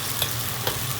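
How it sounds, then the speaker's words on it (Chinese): Spices for spicy braised duck heads stir-fried in a wok, a steady loud sizzle with two brief scrapes of the spatula, no talk. "香料下锅"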